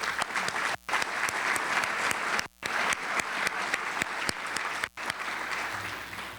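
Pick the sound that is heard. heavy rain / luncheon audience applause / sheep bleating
luncheon audience applause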